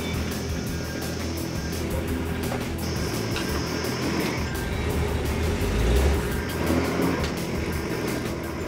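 A small leaf-sprung 4WD truck crawls up a rocky bush track, its engine droning steadily near the microphone and rising slightly as it climbs, with no talk.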